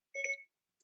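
A mobile phone notification sound, a short soft two-tone electronic chime, quiet and clear, followed by a brief faint trailing blip.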